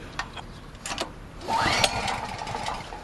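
Pull-start attempt on a Powermate 3250 watt generator engine: a few short rope-pull rattles come first, then the engine briefly catches and sputters without fully starting, heard close and fairly loud.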